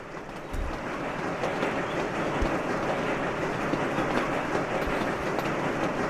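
Trains roll along rails in the video game Sweet Transit, a steady dense rumble with faint clickety-clack and occasional low thumps, constant and close throughout with no speech.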